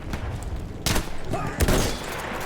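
Gunfire in the video game Battlefield 1, a few bursts of shots cracking over a constant low battlefield rumble, moderately loud.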